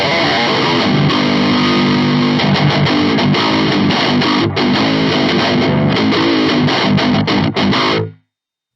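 Loud distorted electric guitar plays chugging riffs and sustained chords, heavy and continuous, then cuts off abruptly near the end.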